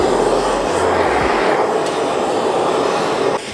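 A blowtorch roars steadily as it warms canola oil for quenching a rebar knife, a loud close rushing flame that holds constant for several seconds before dropping off, with no talking.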